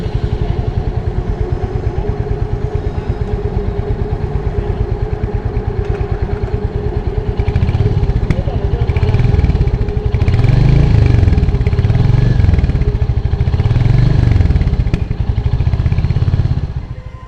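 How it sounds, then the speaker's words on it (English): A Royal Enfield Hunter 350 single-cylinder engine idles with a steady, close thumping exhaust beat, swelling into several louder revs toward the end before settling back, with no talking over it. "fire up the engine and let's hear the exhaust note"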